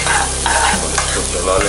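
Chana dal and shredded cabbage masala sizzling in a frying pan as it is stirred, a continuous close sizzle with scraping strokes of a spoon, no voices.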